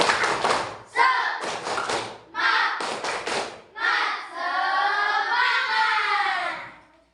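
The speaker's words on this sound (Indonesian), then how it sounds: "Tepuk semangat" A class of children performs a rhythmic spirit clap, with several short bursts of clapping followed by a longer sustained sound that could be voices chanting together.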